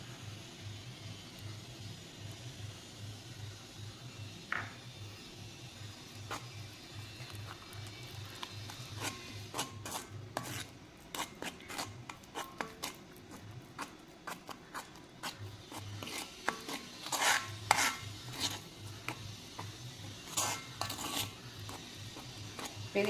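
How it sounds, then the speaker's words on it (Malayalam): A spoon scrapes and clinks against a bowl while a homemade paste for dyeing gray hair is mixed by hand. The strokes are steady and repetitive, close and moderately quiet, with louder clatters toward the end. "നമുക്ക് കുറച്ചുകൂടി ഇതിലേക്ക് ഒഴിച്ച് കൊടുത്തൊന്ന് മിക്സ് ചെയ്ത് കൊടുക്കാം"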